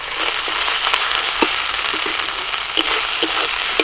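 Onion, ginger-garlic paste and tomato fry in a hot pan for a home-style khichuri meal, a loud close sizzle with scattered crackles and the scrape of a spatula stirring, no talking.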